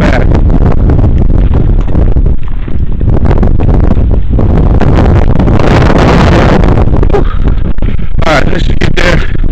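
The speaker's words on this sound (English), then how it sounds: "This wind is crazy." Strong wind at a desert canyon lake in Idaho roars and buffets the microphone loudly and without a break, nearly drowning out everything else, with a few gustier bursts near the end.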